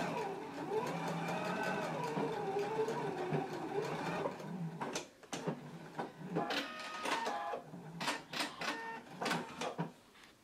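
A sewing machine stitches pleat lines on a pair of pants, a long steady whirring run followed by short stop-start bursts as it backstitches, close by.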